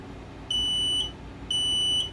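Two sharp, high-pitched electronic beeps, each lasting about half a second with a short pause between, loud and piercing over a quiet background.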